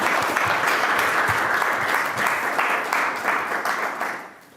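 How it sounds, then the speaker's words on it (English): A school-themed productivity pitch event ends with an audience applauding after a talk, a dense, loud burst of many hands clapping together that holds steady for about four seconds before fading out. "if you could join me in a round of applause"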